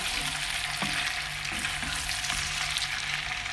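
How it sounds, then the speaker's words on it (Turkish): Boiled dried beans sizzle in a pan as they are sautéed for kuru fasulye, a steady close frying hiss with a few light stirring scrapes and no speech. "Fasulyeyi tekrar kavuracağım"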